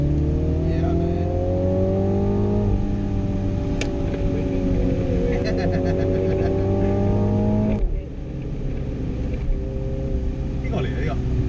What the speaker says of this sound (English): Down to second, turn in, straighten the car, and push.